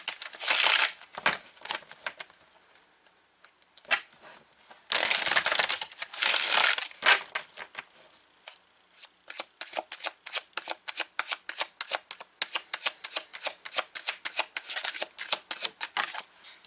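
A deck of Mystical Moments Tarot cards is shuffled close up, first in several bursts of riffling, then in a fast, even run of crisp card flicks toward the end.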